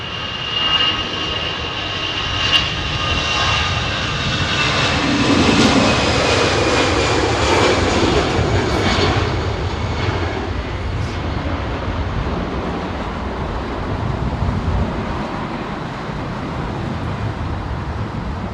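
A Boeing 777-200LR arrives at London Heathrow in windy weather, its engines roaring loudly and steadily with a broad whine and rushing noise throughout, peaking midway as the jet passes close by.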